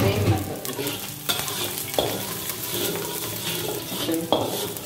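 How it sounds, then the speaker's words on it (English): Garlic sizzles and crackles in a hot wok while a spatula repeatedly scrapes and clinks against the metal, close and busy, with no talking. "Now I'm going to add the remainder garlic."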